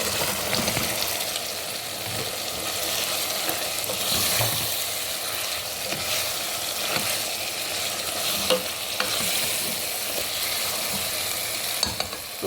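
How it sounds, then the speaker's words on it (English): Chicken gizzards fry in a pan with a steady, loud, dense sizzle throughout, broken by occasional stirring scrapes and no voices. "So now it's time to add our gizzard."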